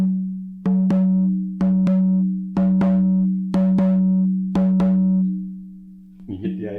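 A handmade rawhide drum from a small drum kit is struck six times at a slow, even pace, about once a second. Each hit rings out with a sustained low boom, and a brief noise follows at the end.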